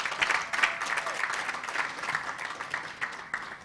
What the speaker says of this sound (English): can I get a bigger round of applause for Miss Rose